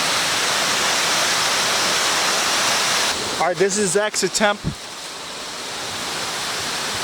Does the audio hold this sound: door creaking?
no